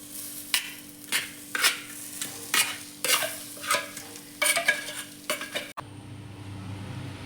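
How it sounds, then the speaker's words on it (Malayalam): Frozen tuna chunks go into a hot pan and are stirred in about ten regular scrapes over a steady sizzle, with no talking. A different, quieter background cuts in near the end. "ഫ്രോസൺ മീൻ നമ്മൾ ഇടുവാണ്, ടൂണ ഫിഷ്."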